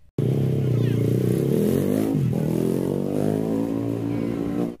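A Z2S motorcycle engine runs steadily and loudly during a test ride after a gas spill, holding a strong even drone with a brief dip and a rise in revs midway, and no talking.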